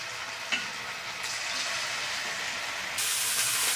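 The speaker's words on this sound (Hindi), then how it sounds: "जितना भी कटहल और आलू है इसको हम ऐसे फ्राई करेंगे, पूरे डीप फ्राई कर लेंगे इसको" Pieces of jackfruit and potato deep-frying in hot oil, a dense, even sizzling hiss that swells louder toward the end, with a faint clink early on.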